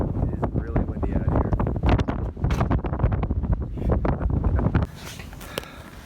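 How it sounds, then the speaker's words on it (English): Strong outdoor wind buffeting the microphone with heavy, gusty low rumbling for most of the stretch before dropping abruptly to a quieter hiss near the end, with people's voices mixed in beneath it. "It is really windy out"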